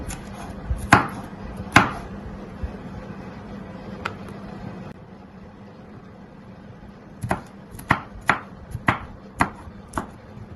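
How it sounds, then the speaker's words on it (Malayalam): A knife chopping yellow bell pepper finely on a board, sharp distinct strikes heard as a couple of isolated chops, then a quicker run of about eight even cuts, close and clear with no talk. "ചെറുതായിട്ട് അരിയുകയാണ്."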